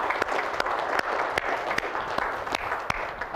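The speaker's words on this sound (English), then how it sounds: "We want to give you a round of applause and just thank you for your service." A church audience claps steadily for standing veterans at a shared morning meal, a dense continuous patter of hands filling the room with a few sharper individual claps standing out.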